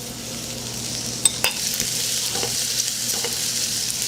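Minced garlic and ginger sizzle steadily in a hot pan while shrimp is being cooked, a close, even hiss with a few faint clinks and stirring scrapes and no talk.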